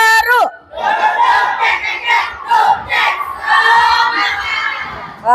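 Classroom children doing the tepuk semangat clapping chant, a group of young voices shouting rhythmic syllables loudly together with claps between, following a brief adult voice at the start.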